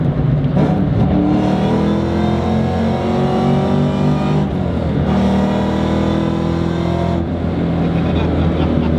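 A Shelby GT350 Cobra with a solid rear axle drives hard, its engine holding a loud, steady roar that rises and falls through shifts, with a voice talking over it.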